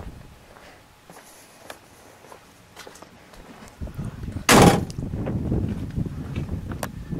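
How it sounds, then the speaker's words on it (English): A single solid car door slam on a 1963 Chevrolet Corvette Split Window lands partway through, loud and close, with outdoor wind rumble and faint shuffling before and after. "I'm going to shut both doors."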